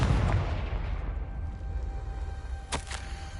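A Confringo blasting spell detonates in Hogwarts Legacy, a heavy low boom that rumbles on as a sustained roar, with a brief sharp crackle near the end.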